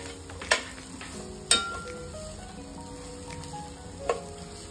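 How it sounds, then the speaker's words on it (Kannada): Coconut paste mixture frying in a pan over a low flame, a soft steady sizzle with a few sharp clinks of a spoon against the pan. "ಇದನ್ನ ಕೂಡ ಇವಾಗ ಒಂದು 2-3 ನಿಮಿಷ ಲೋ ಫ್ಲೇಮಲ್ಲೇ ನಾನು ಫ್ರೈ ಮಾಡ್ಕೋತಾ ಇದ್ದೀನಿ."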